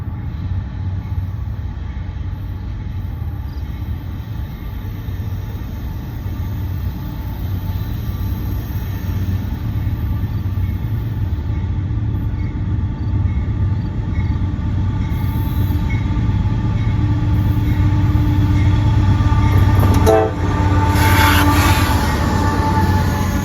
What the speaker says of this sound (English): we catch this NS 45R grain train headed east by downtown Springfield